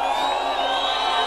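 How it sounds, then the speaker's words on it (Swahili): A crowd at a Kenyan political rally with President Ruto cheers and whoops in a dense, continuous roar, loud and sustained with no single voice standing out. "mpigeni makofi"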